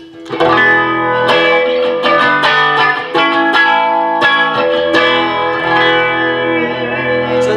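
A 1996 Fender Kurt Cobain Jag-Stang electric guitar with both pickups on, chords strummed through a clean tone with chorus and reverb, warm and slightly hollow, ringing steadily without any talking.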